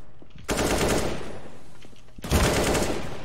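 Rapid automatic gunfire from a competitive FACEIT online shooter match: two loud, dense bursts of rattling shots, the first lasting nearly two seconds and the second starting after a brief lull.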